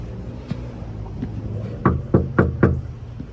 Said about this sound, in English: Knock, knock.